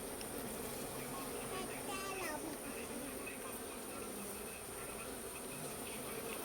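Honey bees buzz around an open hive in a Kolli Hills village, a faint, steady, many-winged hum with occasional louder passes of single bees near the hive.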